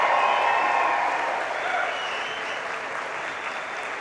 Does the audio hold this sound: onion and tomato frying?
no